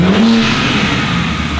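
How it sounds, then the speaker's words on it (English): BMW M3/M4 with the S58 engine and a single midpipe exhaust, revving hard in a loud, sustained, rising roar with a steady engine drone, close by and without talk. "It's funny because we're revving it and you hear it screaming in the back,"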